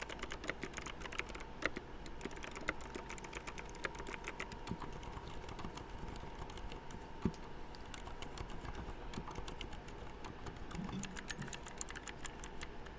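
Steady rapid clacking of a clicky mechanical computer keyboard, close and fairly quiet, with irregular bursts of keystrokes running throughout with no voices.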